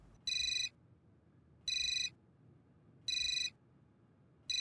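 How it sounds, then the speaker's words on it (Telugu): A mobile phone rings with an incoming call, its ringtone sounding as three and a bit evenly spaced, bright electronic bursts over a quiet room, each lasting about half a second. "Vikas sir phone."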